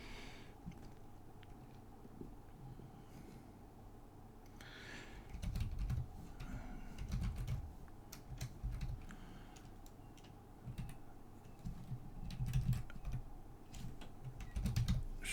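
Steady typing on a computer keyboard, close and fairly quiet, with irregular bursts of key clicks and taps continuing throughout and no voice over them.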